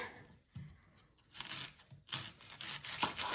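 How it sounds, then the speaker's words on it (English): A single onion being chopped with a knife for a Thai green curry, with soft slicing and rasping cuts coming in uneven strokes, quiet and close with brief pauses between. "So let's cut the onion"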